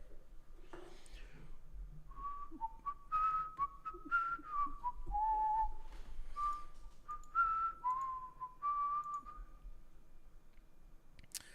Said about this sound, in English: You've heard me whistling the song all day.